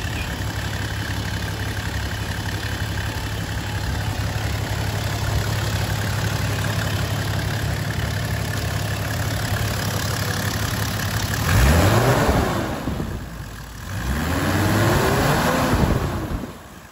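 A Toyota 1HZ diesel engine with 485,000 km, just back together after injector testing, idles with a steady clatter, then gives two swelling revs that rise and fall near the end.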